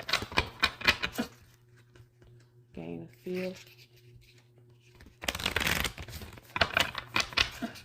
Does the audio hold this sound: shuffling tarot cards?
yes